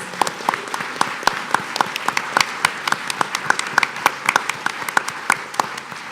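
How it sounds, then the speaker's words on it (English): Audience applause at a Columbus neighborhood community meeting, a thinner crowd of individual claps with distinct sharp hand strikes, steady and continuous at moderate volume. "Join me in giving them a round of applause as thanks."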